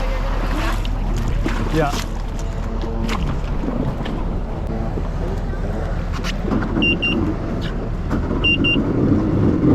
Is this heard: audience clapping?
no